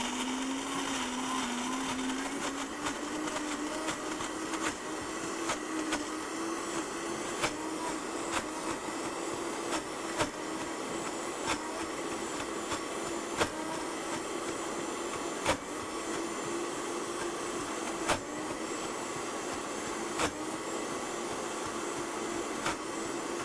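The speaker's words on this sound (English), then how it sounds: "then I'll just push all the nuts into the blender here until it gets creamy" A blender runs continuously at high speed blending nuts, a loud steady whirring grind with faint rattling ticks as the contents churn, no voices.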